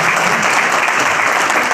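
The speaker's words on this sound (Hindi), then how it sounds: "जोरदार तालियों से" A large crowd at a political rally bursts into loud, dense applause, continuous and unbroken at full strength for the whole stretch.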